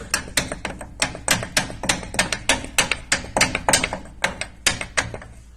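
Rapid series of sharp hammer blows on a metal front axle part of a 2011 Ford F350, about four strikes per second, loud and close, continuing steadily with no talking.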